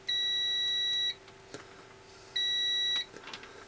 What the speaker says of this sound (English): Let's see how good the beep is.